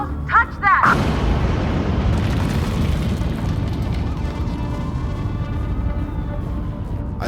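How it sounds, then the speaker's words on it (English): A huge explosion booms through a building in an audio drama, a sharp blast followed by a long, dense roar of rumbling debris and crumbling concrete that fills the space, loud and close. "I lose my footing as the explosion shakes the building"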